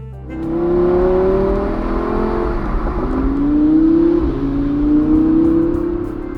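A German hand-built sports car, quick from 0 to 60 in 3.4 seconds, accelerates hard with a loud, steady engine note that climbs through gears, close and continuous, with no talk.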